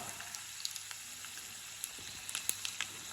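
Cumin seeds and black peppercorns sizzle in hot oil for tempering, a steady faint crackling hiss with scattered small pops and no talking.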